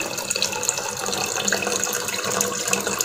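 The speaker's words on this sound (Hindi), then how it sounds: "अब हम अपने पैन में 4 कप पानी शामिल करेंगे।" About four cups of water are poured into a cooking pan to make Peshawari kehwa green tea. The stream splashes and gurgles steadily and close by for around three seconds.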